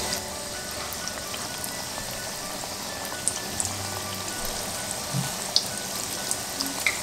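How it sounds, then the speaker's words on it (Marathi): Potato fritters (batata bhaji) frying in hot oil give a steady, dense crackling sizzle with scattered sharper pops, close and continuous with no talking. "असंच आपल्याला एक एक ह्याच्यामध्ये तेलामध्ये सोडत जायचं आहे"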